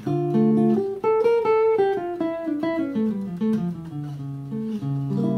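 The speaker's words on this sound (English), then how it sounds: "I might just keep playing D harmonic minor." An unaccompanied guitar runs through a minor scale melody, single notes rising and falling in quick, clean succession.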